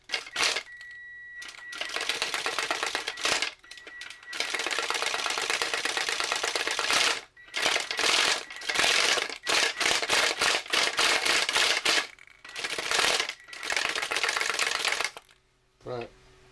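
A homemade rattle-can spray paint shaker runs in loud bursts, a rapid clattering buzz that starts and stops repeatedly with short silent gaps, close and dominant throughout.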